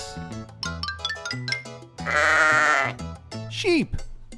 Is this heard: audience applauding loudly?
no